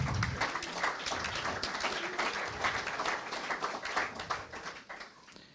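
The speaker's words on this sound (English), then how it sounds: "So that deserves a round of applause for those of you that are standing." Audience applause at a talk on diversity in tech teams, a steady wash of many hands clapping that holds for several seconds before thinning out.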